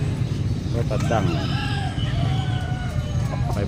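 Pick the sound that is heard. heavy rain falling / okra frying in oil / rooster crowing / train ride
rooster crowing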